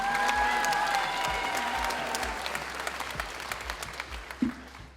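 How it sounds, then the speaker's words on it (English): Audience applause at the Mr BG 2018 pageant, a dense wash of clapping from a crowd that starts strong and slowly thins out, with faint cheering mixed in. "One more round of applause for Wyatt Pohl."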